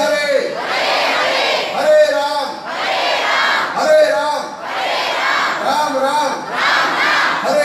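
A large crowd at a Srimad Bhagwatam gathering chants Hare Krishna loudly and with enthusiasm. The chant comes in rhythmic surging phrases that repeat about every one and a half seconds, and a lead voice calls between the crowd's responses.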